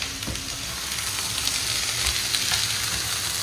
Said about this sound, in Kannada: 2 ರಿಂದ 3 ನಿಮಿಷ ನೀರುಳ್ಳಿ ಈ ಥರ ಫ್ರೈ ಆದಮೇಲೆ ನಾನು ಇವಾಗ ಇದಕ್ಕೆ ಕ್ಯಾಪ್ಸಿಕಮನ್ನು ಕೂಡ ನಾನು ಇಲ್ಲೇ ಯಾವಾಗಲೇ ಸೇರಿಸ್ಕೊಳ್ತಾ ಇದ್ದೇನೆ